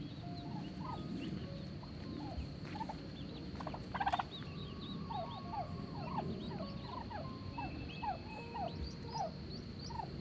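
Heritage breed turkeys gobble and chirp repeatedly at a moderate distance over a steady outdoor hum on a homestead, with scattered calls overlapping throughout.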